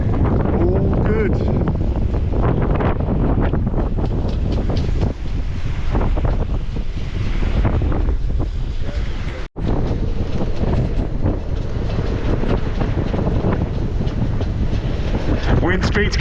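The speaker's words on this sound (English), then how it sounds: "Wind speed's kicking up, gusting to the 30s now" Strong wind gusting over a boat near the entrance to the Medway, a loud, constant roaring rush buffeting the microphone, with water and engine rumble beneath and a voice speaking through it.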